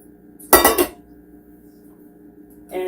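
Boiled tapioca pearls strained in a kitchen, heard as a short burst of clattering and rushing water and metal against a pot, about half a second long, then quiet room tone and a faint clink near the end.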